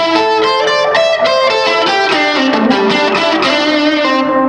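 A guitar played through a delay effect, with notes trailing into overlapping, hazy repeats that blur into a continuous atmospheric wash, loud and alone without any talking.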